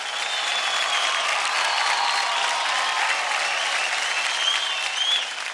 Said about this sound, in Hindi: जोरदार तालियां हो जाए टेरेंस की टोली से वरुण और पियाली के लिए